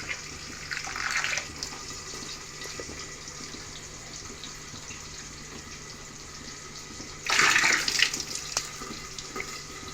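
Prawns are rinsed in water, with two short bursts of splashing, sloshing water against a quiet background, the second louder and closer.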